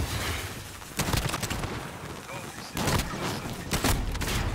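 Gunfire in Call of Duty: Modern Warfare, repeated loud bursts of shots at intervals amid dense game noise, with players talking over the action.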